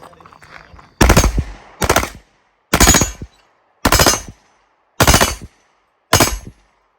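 An H&K MP5K fired from inside an operational briefcase lets off six short, loud bursts of rapid automatic gunfire at roughly one-second intervals, each cut off sharply with silence between.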